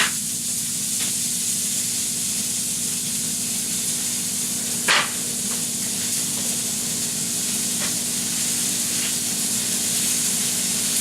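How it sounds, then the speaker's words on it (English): A burger and buttered buns fry in a skillet with a steady, even sizzle and hiss that holds throughout, close and continuous, broken once by a brief louder sputter near the middle. "We're going to put the buns in the skillet and let them fry with the burger."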